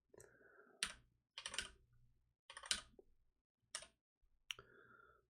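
Someone types on a computer keyboard in short clustered bursts of crisp clicking keystrokes, close and fairly quiet, with pauses between the runs.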